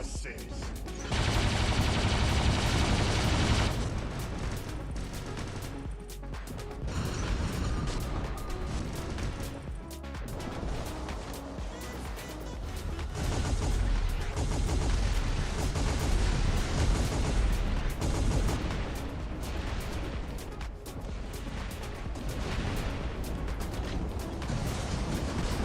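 Robot turrets fire in the War Robots battle game: dense, continuous rapid gunfire and impacts pound loudly and steadily throughout with no pauses.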